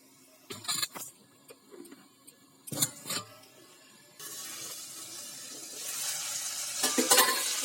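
Red amaranth greens cooking with a rohu fish head in a pan, giving a steady sizzle and frying hiss that grows louder toward the end, broken earlier by a few clinks and stirring knocks.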